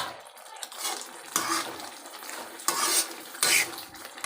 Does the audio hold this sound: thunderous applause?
no